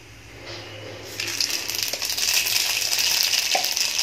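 Mustard seeds hit hot oil in a pan, and the quiet hiss swells after about a second into a loud, continuous crackling sizzle with a couple of faint clicks.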